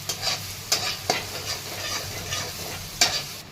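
Potato sabzi with spices, ginger, garlic, green chilli and coconut frying in a pan, a steady close sizzle broken by a few sharp scrapes of a spoon stirring.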